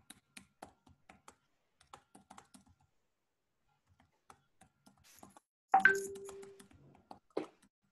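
Typewriter keys struck in a quick run of small, sharp clacks with short pauses, followed near the end by a louder mechanical clatter and ring, heard close with no talking.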